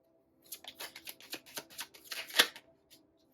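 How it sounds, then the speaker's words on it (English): Tarot cards laid down one after another on a table, a quick run of soft close slaps and flicks with a sharper snap near the end, in an otherwise quiet room. "I'm just going to put the cards down first, and then I'll see where they fall"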